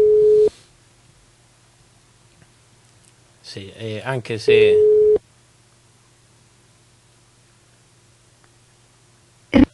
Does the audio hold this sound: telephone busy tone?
yes